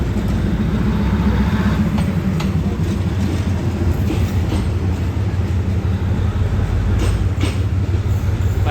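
A train at Bangkok railway station, with a loud continuous rumble of rolling railcars, rhythmic wheel clatter and faint squeals heard close for several seconds.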